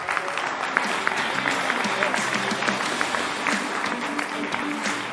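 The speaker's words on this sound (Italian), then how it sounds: "Facciamo un applauso a Gianluca." Applause for a player fills an Italian football locker room, dense steady clapping from a small group close by, with voices mixed in throughout.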